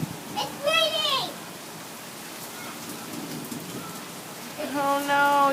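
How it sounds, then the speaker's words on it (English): Steady rain hiss fills the background throughout, with people speaking near the start and again at the end over the downpour. "You like the rain? Nice. It's raining."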